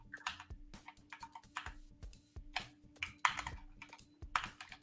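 Rapid, uneven typing on a computer keyboard during a Kotlin coding session with the KorGE game engine, close and clicky keystrokes in quick bursts with short pauses, no talking.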